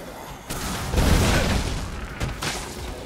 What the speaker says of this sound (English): What what is this guy shooting? Like a fireworks machine?